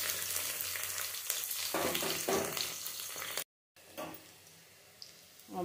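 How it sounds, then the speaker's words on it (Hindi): Steady, close crackling and sizzling of panch phoron spices, garlic and chillies frying in hot oil, with a few louder pops and a brief silent gap. "अब इसमें मैं 5 फोरन डालूँगी, लहसुन मिर्च ये सारे डाल देती हूँ।"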